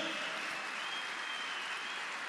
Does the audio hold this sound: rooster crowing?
no